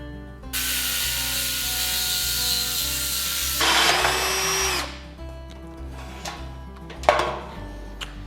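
A 1.5 inch hole saw cutting a hole, a loud continuous high-pitched grinding whine for several seconds that shifts in pitch as it bites, then stops, followed by a few scattered knocks and scrapes.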